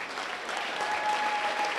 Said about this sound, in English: Another round of applause for the District 9 runners-up from Keystone